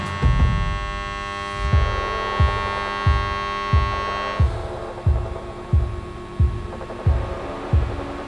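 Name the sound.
DC TIG welder pulse welding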